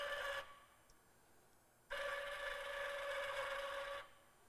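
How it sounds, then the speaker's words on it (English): Bug-O Systems K-Bug 2000 automated welding carriage running dry along its track, with two steady whirring motor bursts separated by a short quiet pause, no talk. "So I'm just going to run it dry so that it does track into place"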